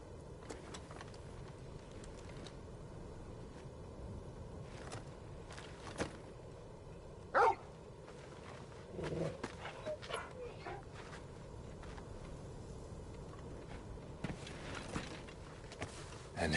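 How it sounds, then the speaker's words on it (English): Torgal the dog from Final Fantasy 16 gives faint yips and whimpers with a few sharper barks over low game ambience, while voices talk quietly. "And who's this fine hound I see before me?"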